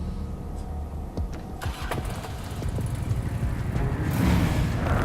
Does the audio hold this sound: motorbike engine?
yes